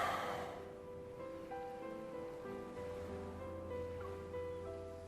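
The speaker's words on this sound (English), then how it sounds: "The downpour starts." Heavy rain in the video game Love and Deepspace, a steady, soft wash of downpour heard beneath sustained musical tones.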